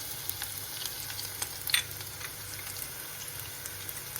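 Garlic hits hot oil in a frying pan and gives a soft, steady sizzle with faint stirring clicks. The sound is quiet and constant, with no voices over it.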